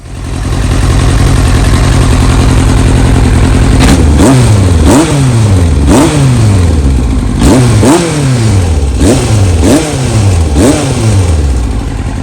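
A Yamaha R1 sport motorcycle engine idles, then revs hard in a series of sharp throttle blips, each rising and falling in pitch, loud and close.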